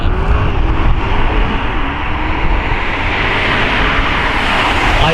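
Porsche Panamera 970 Turbo engine pulling hard under acceleration from inside the car, a loud sustained roar with a rising, shifting tone over road noise, no talking.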